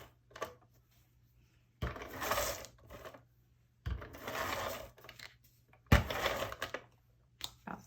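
An ATG adhesive tape gun runs tape across scrapbook paper in three separate close rasping mechanical bursts spaced about two seconds apart, each with a ratcheting clatter and quiet gaps between.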